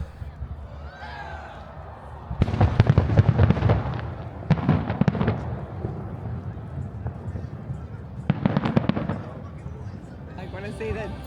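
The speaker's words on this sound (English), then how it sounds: "you can see the fireworks." Fireworks exploding in the distance, seen through a gap in the trees: three clustered bursts of rapid crackling pops, moderately loud, separated by quieter stretches with faint voices in the background.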